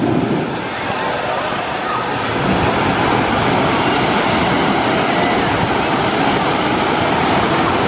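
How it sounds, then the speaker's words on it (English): At Typhoon Lagoon, wave-pool water surges back against the rocks in a loud, continuous rushing wash. The churning swells a little after the first couple of seconds and holds steady to the end, with no voices heard. "that suction of all that water flowing back against the rocks there is what creates that second wave right there"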